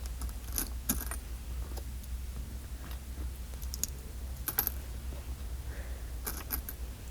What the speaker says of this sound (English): Get the rest of these coins. I love the sounds of coins.